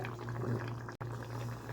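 Close, soft bubbling and simmering of thick tomato chutney in a covered pan, with a steady low hum and a brief dropout partway through.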